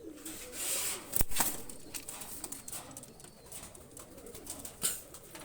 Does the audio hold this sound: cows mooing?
no